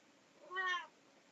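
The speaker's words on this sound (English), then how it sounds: "I've got a cat here who's a bit demented, and she's got no tail." One short, clear meow from a tailless house cat, rising and falling in pitch over half a second, soft and fairly close in an otherwise quiet room.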